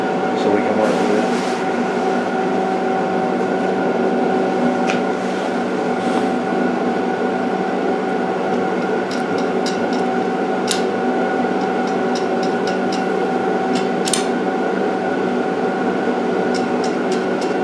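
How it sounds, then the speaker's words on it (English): A welder hums with a steady loud drone and occasional sharp clicks while a lawn edger is being converted into a trencher, and a voice is heard at times. "the other roaring you hear is the welder"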